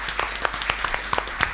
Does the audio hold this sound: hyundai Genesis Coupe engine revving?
no